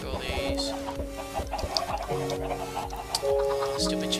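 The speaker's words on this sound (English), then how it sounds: "Stupid chickens. Move out of the way." Chickens clucking in the video game Minecraft, set against game background music with steady repeated notes; short clucks recur throughout at moderate loudness.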